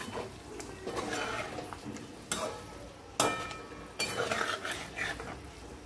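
A utensil scrapes and clinks against a pot as yogurt is stirred into egg biryani, with soft sizzling under a steady run of stirring and a few sharper knocks, close and moderately loud.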